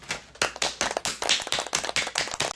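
About a dozen sharp, close hand claps in an uneven rhythm, loud and alone, with no talk.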